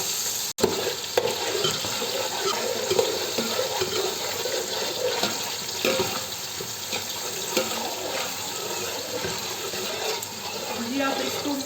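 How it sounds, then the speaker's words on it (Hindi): Onions fry in a pan for rice pulao, a steady broadband sizzle and crackle with faint stirring scrapes, close and continuous for the whole span without speech. "अब प्याज को हम लोग फ्राई करेंगे"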